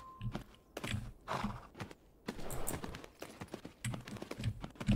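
Hooves of a horse trotting in the video game Tales of Rein Ravine, a steady rhythmic clip-clop with occasional snorts, close and moderately loud with no talking.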